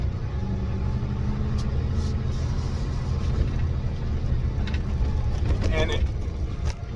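A 650 motorcycle engine rumbles steadily as it is brought up to about 2,000 RPM before a gear change, a constant low drone with some wind noise and a voice talking over it.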